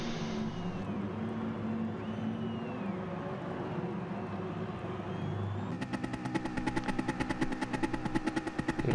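Race car engines drone in GT Sport, a steady mid-pitched hum of several cars, then a nearby engine surges into a rapid, pulsing buzz that grows louder toward the end.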